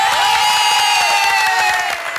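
Studio audience applauding the Ouati family on a Tunisian TV show, a dense, steady wash of clapping and cheering heard up close throughout.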